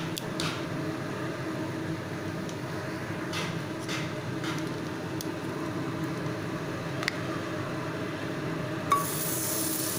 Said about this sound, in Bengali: প্রেশার কুকার গরম হয়ে গেছে, এবার আমি এর মধ্যে দিয়ে দিচ্ছি বাটার।